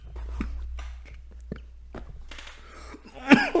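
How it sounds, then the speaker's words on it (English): A man coughs once, sharp and close, near the end of a quiet stretch of soft breathy, laugh-like sounds. "It turned into a cough."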